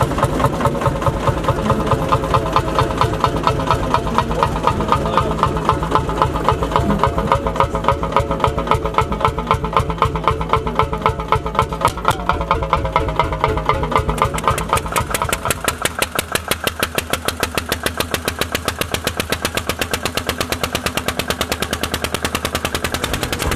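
A vintage Lanz Bulldog single-cylinder tractor engine chugs steadily with loud, rapid regular thumps, close by, the beat quickening slightly partway through.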